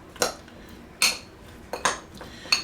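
Seasoned breakfast skillet ingredients are mixed together with a metal utensil in a pan, making four short clinking scrapes spaced roughly a second apart, close by with no talking.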